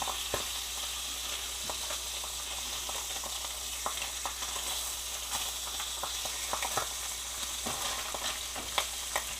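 Steady crackling sizzle of brook trout and mushrooms frying in a pan, with scattered sharp pops over a constant hiss, no voices.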